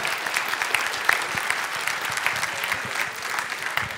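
Crowd clapping steadily at a civic honours ceremony in Florange, a moderately loud round of applause with a few distinct claps and faint voices mixed in.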